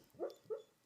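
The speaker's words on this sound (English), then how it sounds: "If you hear that sound, that's my puppy." Two soft, short whimpering sounds from a sleeping, dreaming puppy, close by and quiet, one after the other.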